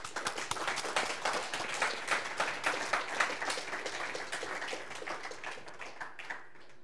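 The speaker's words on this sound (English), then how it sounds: "let's have a round of applause for our students" Conference audience applauding students with dense, steady clapping that holds for about six seconds before quickly dying away, heard from within the room.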